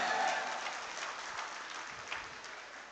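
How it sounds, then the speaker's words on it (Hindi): An audience at an alumni meet at a college applauds, filling the hall with dense continuous clapping that is loudest at the start and slowly tapers off, heard from a distance and fairly faint. "एक बार आप लोग अपने सम्मान में तालियां बजा लो।"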